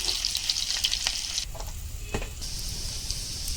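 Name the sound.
onion and garlic frying in hot oil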